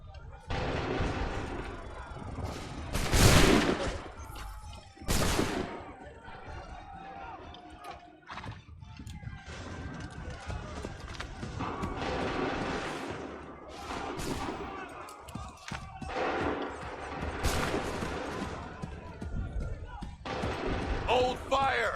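Musket volleys ring out in an Assassin's Creed III battle, a few loud broadband bursts standing out over a busy bed of battle noise with shouted orders in between.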